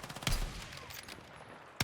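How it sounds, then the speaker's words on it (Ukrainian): Scattered gunshots in Battlefield 6 pop in quick bursts, fairly distant and muted, with a sharp louder shot at the very end. "Так, тут щось багато стріляють."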